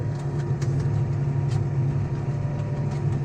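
A tractor engine that pours out heavy black exhaust smoke runs at a steady, loud drone, close by and unbroken for the whole stretch, with no voices over it.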